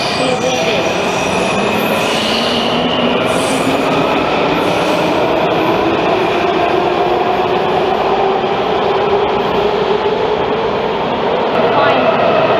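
Loud onboard rumble of a moving passenger train, with steady wheel roar and rising, drifting squeal tones from the rails running through the whole stretch; no one talks.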